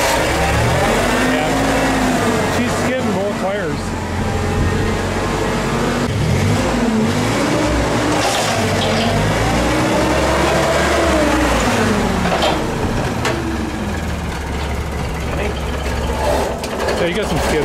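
Caterpillar TC30 forklift backing up and braking after brake work, a loud continuous engine drone with rising and falling revs and clunks, voices talking over it.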